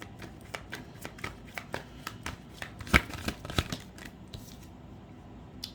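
Tarot cards are shuffled by hand, a quiet run of quick riffling flicks and papery taps in an irregular rhythm, close and soft, with no talk.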